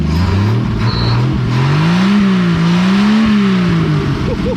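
A 1959 Edsel Ranger engine runs close by and is revved, its low exhaust note rising and falling in slow swells over a steady idle rumble, loud and with no talk.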